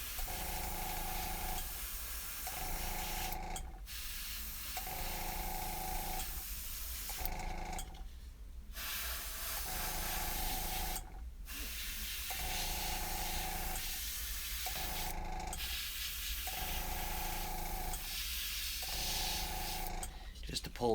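An airbrush hisses steadily as it sprays paint around a carved eagle on a wooden walking staff, the loud spray running in repeated bursts with brief pauses between them.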